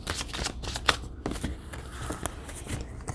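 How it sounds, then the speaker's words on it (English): Tarot cards being shuffled by hand in a short run of crisp riffling and slapping bursts with sharp card snaps, close and fairly steady throughout. "Sometimes they don't like when I shuffle that way."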